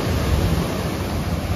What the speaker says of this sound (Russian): сегодня шторм на море